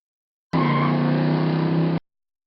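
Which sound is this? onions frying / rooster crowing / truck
truck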